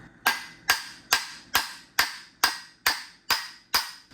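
Ten evenly spaced metallic taps from a lead hammer on threads while dismantling a 1972 Triumph GT6 D-Type overdrive, each sharp strike ringing briefly before fading, steady rhythm at close range.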